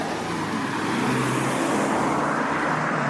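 Road traffic passes close by as a continuous, loud roar of car engines and tyres on the roadway. The sound swells slightly as vehicles go past, with no talking.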